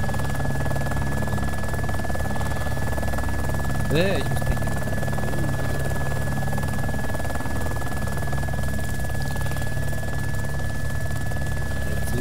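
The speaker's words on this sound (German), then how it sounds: "Mein Heli ist zu laut." A steady, droning helicopter rotor and engine hum runs unbroken in a survival game, loud and constant, with someone speaking briefly over it.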